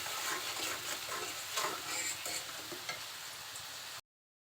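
Spice paste of turmeric and cumin frying and being stirred in a pan, a steady close sizzle with scraping stir strokes throughout, no voices.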